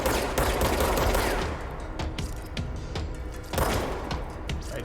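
Heavy automatic gunfire in the video game Control, loud rapid bursts close up, a sustained fusillade that eases off midway and then swells again near the end.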